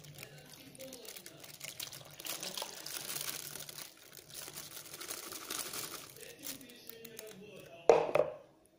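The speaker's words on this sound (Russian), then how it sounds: "Сейчас все это доливаю в пакетик." Sauce is poured into a crinkling plastic bag with fish while someone talks, ending in a brief louder rustle.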